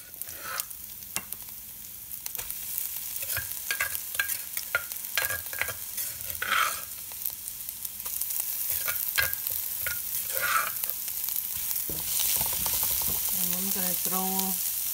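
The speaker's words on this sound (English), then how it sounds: "throw the lemongrass stalk and kaffir lime leaf here to get the aroma out from here first" Lemongrass stalk and kaffir lime leaf fry in hot oil for a Lao snail stew, giving a steady sizzle broken by scattered stirring clicks and utensil taps, with a brief burst of bubbling near the end.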